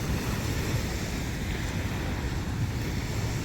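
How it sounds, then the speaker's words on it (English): A powerful waterfall roars as a dense, steady, broadband rush, loud and unbroken throughout, with wind buffeting the microphone and no talk. "how powerful that waterfall is"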